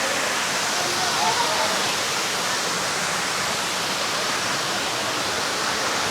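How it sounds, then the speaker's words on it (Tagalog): Water pours steadily at Batlag Falls, a dense, even roar of falling water that stays loud and close without any pause. "Kaya yung tubig sa Batlag Falls."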